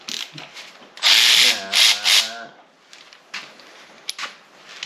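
Ratcheting wrench loosening the cam gear bolt on a Mopar 400 engine, a loud burst of quick mechanical clicks and whirring lasting a second or two, followed by quieter handling noises and faint movement.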